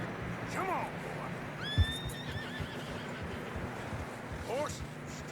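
A horse in Red Dead Redemption 2 struggles along a narrow, snowy mountain trail, whinnying twice with high wavering neighs amid soft hoof clops and a background wind hiss.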